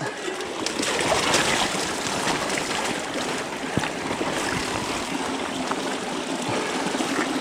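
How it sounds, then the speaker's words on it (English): A river rushes steadily out on an e-MTB trail ride, broadband water noise holding even and continuous throughout, with no talk over it. "That's a river."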